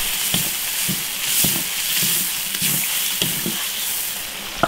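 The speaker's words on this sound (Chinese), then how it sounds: "生蚝下锅，搞三秒。" Oysters hit a hot wok for a quick stir-fry with pork kidney, chili and wild scallions, hissing steadily. Sharp scrapes and clacks of a spatula against the wok break through at irregular moments.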